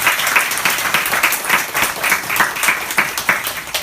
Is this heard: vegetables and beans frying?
no